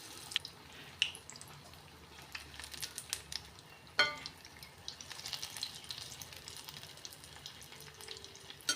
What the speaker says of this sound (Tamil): முட்டை பஜ்ஜியும் நமக்கு நல்லா பொரிஞ்சு வந்துட்டு